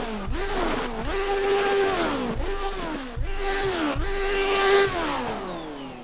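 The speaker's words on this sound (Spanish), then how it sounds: "El coche no solo es precioso, sino que tiene un sonido absolutamente atronador" Jordan 191 Formula 1 car with an H-pattern gearbox at the Nürburgring, its engine screaming loud and close through repeated rising revs, each climb cut off by a gearshift before soaring again.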